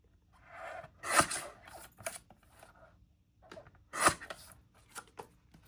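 Scissors snip through a printed photo for a scrapbook, two distinct close crisp cuts with a few softer paper rustles and small snips between them, in a quiet room.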